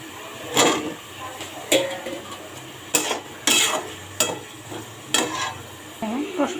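Pointed gourd pieces stirred into frying spice paste in a pan give a steady sizzle, broken by a series of scraping spatula strokes and clinks against the pan at a regular pace.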